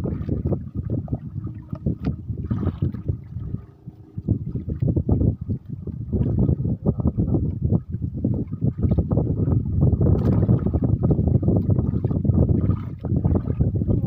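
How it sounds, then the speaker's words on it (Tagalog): Steady wind noise buffets the microphone throughout, with low rumbling gusts over lapping water sounds from a small fishing boat; no clear talk. "Hangin din kaunti."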